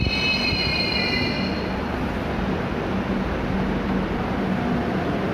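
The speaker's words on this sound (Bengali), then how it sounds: "মনে হচ্ছে একটা মেট্রো এসছে" A metro train arrives at a station with loud, close wheel squeal at first, then settles into a steady heavy rumble of rolling cars.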